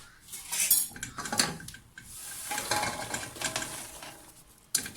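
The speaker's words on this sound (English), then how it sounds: "Now at this point, dump your popcorn back in." Popcorn is tipped back into a pan of caramel and stirred with a utensil, giving close, irregular scraping and clattering against the pan in uneven bursts.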